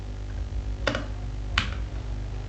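Two sharp key clicks on a computer keyboard as a grep command is typed, spaced apart over a steady low hum, close and alone without talk.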